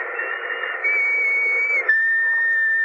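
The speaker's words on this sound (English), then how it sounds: "Remember that whistle?" Whistle blown in an old radio drama, a sustained shrill tone held for nearly three seconds, shifting pitch in steps with a faint hissing background and no speech.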